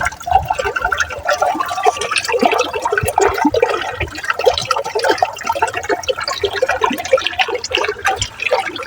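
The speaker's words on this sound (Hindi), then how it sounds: "इस टाइम देखें वो सामने टरबाइन बंद है और पानी ओवर साइड से ओवरफ्लो हो रहा" Water overflows over the side of a dam at Naran while the turbine stands stopped, a steady loud rushing and splashing roar with no pause, close by and without talk.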